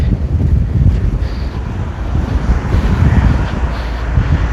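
Strong wind blowing at the Jaffna seaside rumbles steadily across the microphone. Waves or surf may sound faintly beneath the gusts, and no one speaks.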